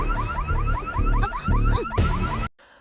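A car alarm wails in a repeating rising warble, loud and close, cutting off abruptly near the end, set in an Indian action film scene.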